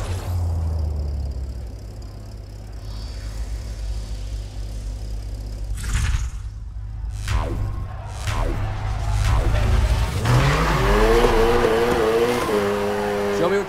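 A race car in the video game Need for Speed Heat revs and accelerates hard, with sharp tire squeals and rising engine whines sweeping through, loud and close, over a low musical rumble.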